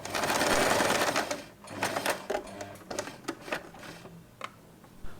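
A sewing machine stitches along the fabric seam of a rainbow scrunchie, a loud continuous whirring run that stops, then gives way to a series of short, close mechanical clicks and bursts.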